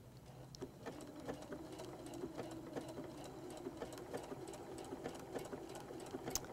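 Domestic sewing machine stitching fusible appliqué fabric along a curve, a steady mid-level whirring run with fast rhythmic needle clatter and brief pauses and restarts as the fabric is turned.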